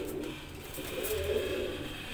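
Teddy pigeons in a breeder's loft in Faisalabad coo softly, a low throaty burble swelling briefly in the middle against quiet background noise, with no talking.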